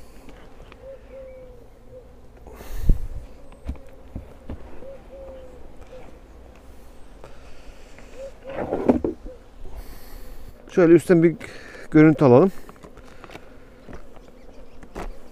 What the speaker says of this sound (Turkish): Evet, görüldüğü gibi arı yoğunluğu gayet iyi.